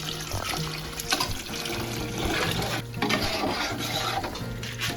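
Jaggery syrup being stirred in a pan while cooking a sweet with sago and coconut milk, a steady wet swishing and liquid churning that continues throughout at close range, with no talk.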